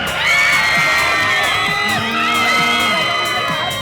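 A crowd screams and cheers at an award show in a loud, continuous burst of high-pitched voices, with scattered whoops rising over the din.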